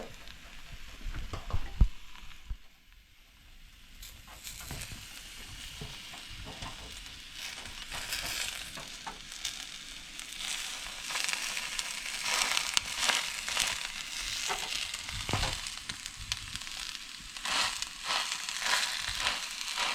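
Vietnamese banh xeo pancake batter sizzles and crackles steadily in a hot pan, a dense, close frying hiss that swells louder with a few scraping touches and no talk over it.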